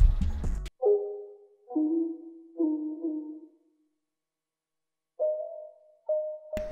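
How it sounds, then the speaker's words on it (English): Short plucked tones with a nasal, exotic timbre ring out in a sparse pattern, separated by silences, each note sliding slightly and fading quickly. "I then added this like ethnic like pluck sound,"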